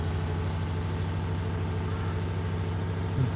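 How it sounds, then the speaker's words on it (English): A lorry engine in Farming Simulator 22 drones steadily with a low, even hum and rumble while driving, constant and unbroken, with no talking. "Fantastic lorry, this."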